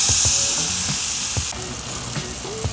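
Chicken wings sizzle and crackle on a gas grill as they are flipped, a close, steady frying hiss with a few soft thuds and pops from the wings being turned.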